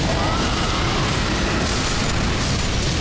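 Dragon fire incantation blasting in Elden Ring Shadow of the Erdtree, a loud, continuous roaring burst of flame that stays dense and unbroken for about three seconds.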